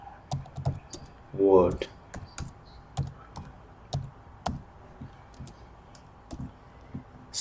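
Irregular clicks and taps of typing on a computer keyboard, close and crisp, with pauses between bursts and a brief spoken word early on.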